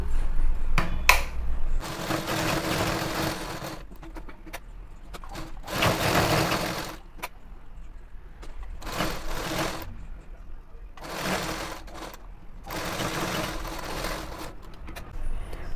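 A sewing machine stitches lined chudithar fabric in several bursts of rapid mechanical whirring, separated by short pauses and faint handling clicks, close and fairly loud.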